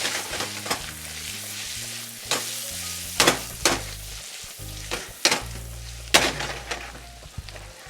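Carrots frying and being stirred in a heated pan, with a steady close sizzle broken by repeated sharp scraping bursts from the stirring, alone with no talk.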